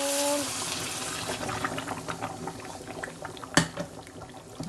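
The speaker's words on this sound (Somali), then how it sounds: "biyaha kulul" Hot water poured and splashing into a cooking pot while making Somali bariis rice with suqaar, a steady watery trickle and gurgle with one sharp clatter near the end.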